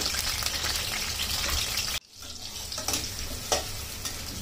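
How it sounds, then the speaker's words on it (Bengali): Chopped onions hitting hot oil in a wok, a loud, dense sizzle that drops briefly, then resumes as steady frying crackle with occasional stirring scrapes, close up and without talk. "পরিমাণ মতো তেল দিয়ে দিলাম, পেঁয়াজ কাটা দিয়ে দিলাম"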